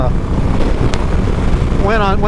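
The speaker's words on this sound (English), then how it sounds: "it is brutal windy out here." Heavy wind buffets the microphone in a constant low roar, with a brief voice-like warble near the end.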